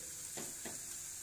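Onion-tomato masala for egg gravy sautés in oil with a faint steady sizzle, marked by two soft scraping stirs, close but quiet.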